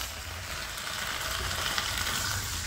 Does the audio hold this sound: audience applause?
no